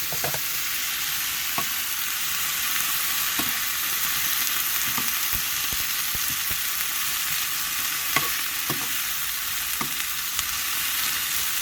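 Onions and peppers frying in a pan in a camping-car kitchen, a steady close hiss of sizzling with intermittent knocks and scrapes of a stirring utensil throughout.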